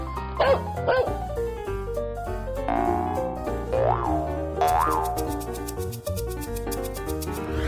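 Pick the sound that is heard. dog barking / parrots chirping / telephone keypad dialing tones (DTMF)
dog barking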